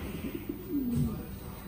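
A single low, soft pigeon coo rises and falls near the listener, with quiet background rustle around it.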